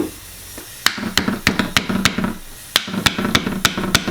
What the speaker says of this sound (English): with your PVC pipe, just tap that down in there